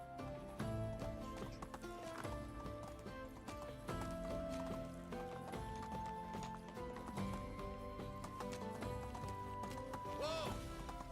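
A horse galloping in the video game Medieval Dynasty, with steady hoof clip-clop and a whinny heard beneath continuous game music and sound effects.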